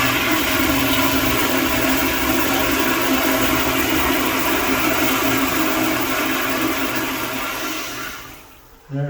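A Sloan flushometer toilet flushes after its valve is opened, a loud continuous rushing of water held at steady strength for several seconds before it tapers off and stops.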